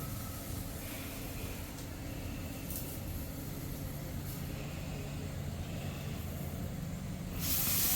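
Slices of eggplant (brinjal) dipped in spice masala sizzle on a hot iron griddle (tawa), making a steady, even hiss that holds throughout and swells slightly at the end.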